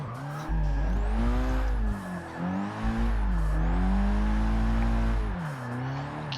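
A Nissan Silvia Spec-R S15 drift build in Forza Motorsport 6 drifts on track, its engine revving and wavering up and down close by as the tyres squeal in long sliding stretches.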